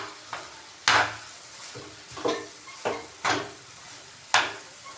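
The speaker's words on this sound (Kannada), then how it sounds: "ಸೊ ಇವಾಗ ಇದನ್ನೆಲ್ಲ ಚೆನ್ನಾಗಿ ಮಿಕ್ಸ್ ಮಾಡ್ತೀನಿ." Chili powder and garam masala mixture stirred in a pan: a spoon scrapes and knocks against the pan about six times at an uneven pace, close and distinct over a faint background hiss, with no speech.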